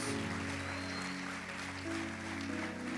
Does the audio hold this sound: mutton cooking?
no